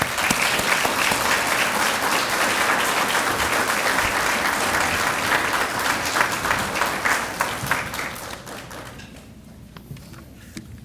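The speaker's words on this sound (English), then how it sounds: "let's have a round of applause for our graduates" Loud, sustained applause from the audience at a law enforcement training graduation ceremony, a dense crowd of clapping hands that holds steady for several seconds and then tapers off to scattered claps.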